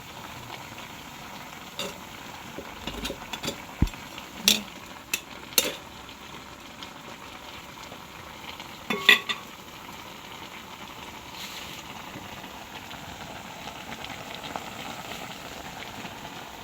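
Squid adobo with string beans cooks in a pan, giving a steady, fairly quiet sizzle with a few sharp utensil clicks and scrapes as it is stirred.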